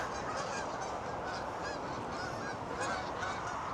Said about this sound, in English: Morning, geese.